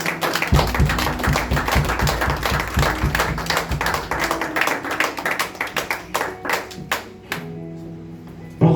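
A church congregation claps along during a Sunday worship service, a steady rhythmic applause of many hands filling the room, with music and singing underneath that fade near the end.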